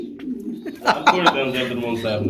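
Pigeons cooing at a pigeon sale, several soft low coos close by, with people talking over them and a few brief sharper sounds partway through.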